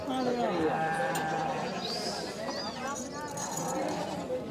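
At a goat market, bleats rise over a busy crowd where people talk constantly, with a couple of short animal calls in the middle distance.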